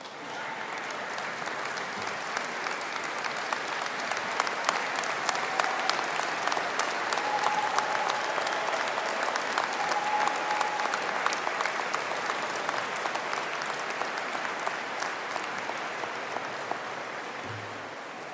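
Graduates at a business and hospitality conferring ceremony applaud their parents and guardians, producing steady, sustained clapping from a large crowd that holds at an even level throughout.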